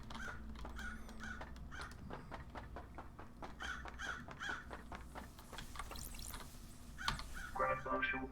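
Repeated crow caws echo in a steady rhythm within the video game Paradise Killer, moderately loud over a low ambient hum, with a brief burst of other game sounds near the end.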